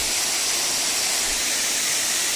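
A roadside waterfall in a Konkan village gives a steady, broadband rush of falling water, close and unbroken throughout.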